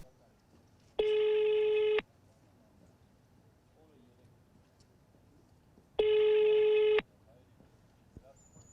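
Ringback tones of an unanswered telephone call, two long one-second tones spaced about five seconds apart, clear and isolated over a quiet line with faint background noise.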